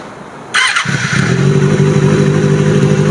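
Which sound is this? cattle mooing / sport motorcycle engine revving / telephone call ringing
sport motorcycle engine revving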